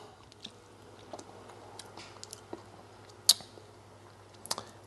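Quiet, close chewing of pulled beef from a crockpot, soft wet mouth clicks and squishes scattered over a few seconds with a faint low hum beneath.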